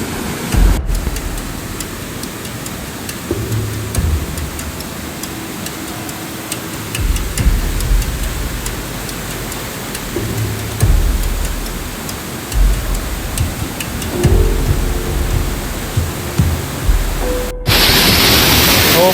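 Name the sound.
strong current of water at a waterfall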